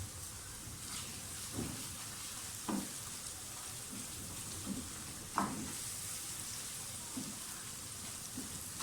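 Cumin seeds frying with onions in a pan, a steady soft sizzle with occasional small pops and stirring knocks, faint and close, no talk.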